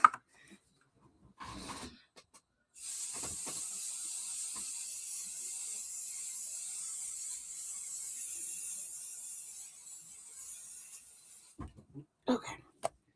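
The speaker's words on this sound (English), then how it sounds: "So let me spray real quick." A spray can gives a steady hissing spray for about nine seconds, bracketed by short handling noises and clicks before and after.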